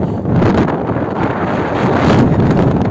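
Strong wind buffets the microphone in a loud, continuous rumbling roar, swelling slightly in gusts, with no voices.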